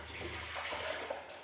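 Water pours steadily into a bucket for washing dishes, a continuous splashing rush with no break.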